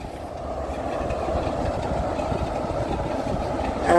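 Diesel locomotive 6566 on the West Somerset Railway, just back from Minehead, gives a steady, fairly close engine rumble and throb that holds evenly and grows slightly louder at the end.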